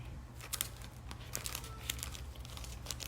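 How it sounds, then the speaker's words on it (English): Close crinkling and snipping as scissors cut a thin plastic Ziploc bag, with several quick sharp cuts scattered over a low background hum. "I'm going to cut the Ziploc bag a little bit less than I would."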